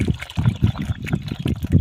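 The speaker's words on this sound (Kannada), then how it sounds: "ಚೆನ್ನಾಗಿ ಮಿಕ್ಸ್ ಮಾಡಬೇಕು ಇದನ್ನು ಔಷಧಿನ" Pesticide being stirred into water in a bucket, heard as a quick series of close, rhythmic sloshing and swishing pulses of liquid.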